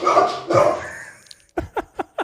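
A dog barks four times in a quick, evenly spaced run, sharp and fairly close, following a stretch of louder indistinct noise at the start.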